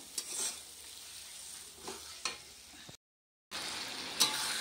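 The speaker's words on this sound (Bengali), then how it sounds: "এখন মশলাটাকে ভালো করে কষিয়ে, তো হলুদটা কম হয়েছে" Spice paste stirred and fried in a pan for chicken curry with potatoes, a steady hiss of frying broken by a few sharp spatula scrapes, a brief silent gap, then a louder burst of sizzling.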